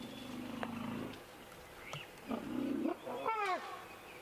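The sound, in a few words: young elephant throwing a tantrum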